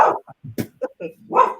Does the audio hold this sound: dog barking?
yes